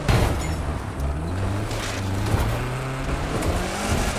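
A race car drives along a snowy road in The Crew 2, its engine droning loud and close with a rising, shifting pitch and slight tire noise, and no talking.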